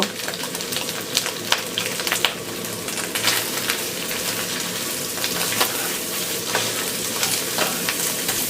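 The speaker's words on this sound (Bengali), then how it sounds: "শ্রেডেড মাংসটাকে হালকা একটু ফ্রাই মতো করে নিলাম" Shredded meat for haleem fries lightly in a pan with ready-mix spice, a steady loud sizzle broken by repeated scraping stirs, with no one talking.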